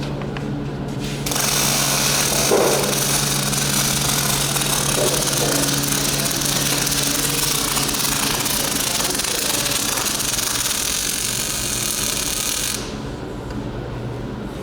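Semi-automatic MIG welding of aluminium alloy with aluminium wire, a steady loud buzzing crackle running for about eleven seconds without a break, with a quieter workshop hum before it starts and after it stops.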